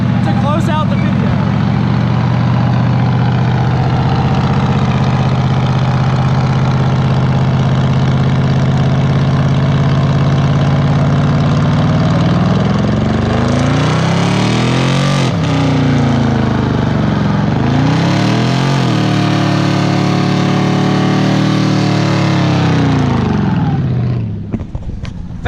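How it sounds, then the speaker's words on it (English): A GMC Canyon truck with a swapped 5.3 V8 doing a burnout, a heavy, loud rumble held steady for a long stretch, then surging revs that rise and fall in several sweeps before cutting off. "he is gonna do a burnout to close out the video"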